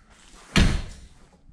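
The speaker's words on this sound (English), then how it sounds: "Now just closing the door," The door of a Polaris Ranger UTV swings shut with a single solid thunk, close and loud, then fades quickly.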